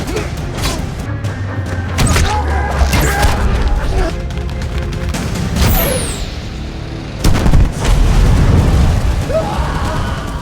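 Loud bursts and booming blasts of battle, repeated explosions and sharp cracks over a dense roar of chaotic fighting.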